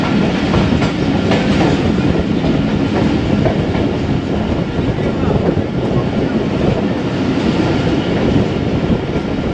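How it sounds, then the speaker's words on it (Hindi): The 9UP Allama Iqbal Express, running from Karachi to Raiwind, rolls into Chichawatni railway station in Punjab with a loud, close and continuous rumble and rhythmic wheel clatter throughout. "चीचा वतनी रेलवे स्टेशन पहुंच रहे हैं"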